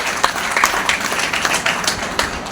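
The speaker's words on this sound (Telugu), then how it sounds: "సో ఒకసారి బిగ్ రౌండ్ ఆఫ్ క్లాప్స్ ఇవ్వండి." A short burst of audience applause at a business meeting, many hands clapping together in a dense, lively patter that stays fairly even for the few seconds heard.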